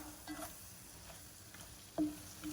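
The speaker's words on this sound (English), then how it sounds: "In goes about 500 grams of blanched haricot beans. We don't want to do too much to this. We just want to lightly toss it up." Blanched haricot beans tossed lightly in a pan with peanut butter, chili and smoked sesame give a soft, faint sizzle and rustle, with a brief louder scrape near the end.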